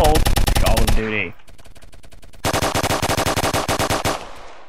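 Rapid pistol gunfire in the Roblox game Phantom Forces: a loud burst of fast shots, a short pause with a reload-like clatter, then another long run of quick, evenly spaced shots.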